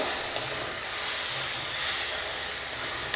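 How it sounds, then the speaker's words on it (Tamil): Ginger-garlic paste sautés in a hot pan for a country chicken dish, giving a steady, bright sizzling hiss that holds evenly throughout. "இப்போ நம்ம இஞ்சி பூண்டு விழுது சேர்த்து 1 நிமிஷம் போல் நல்லா வதக்கிட்டோம்."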